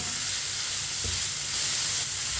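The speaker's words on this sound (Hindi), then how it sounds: "अब इसे 4 मिनट के लिए पका लेंगे चम्मच चलाते हुए।" Chicken frying in a pan for chicken macaroni while being stirred with a spoon, a steady close sizzle and hiss with a faint soft scrape partway through, no talking.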